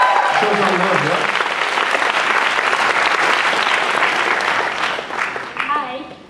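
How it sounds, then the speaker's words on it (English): A university audience applauds at a live student interaction session, a dense, loud wash of clapping that holds steady for several seconds before thinning out, with some voices mixed into the crowd noise. "Give her a big round of applause."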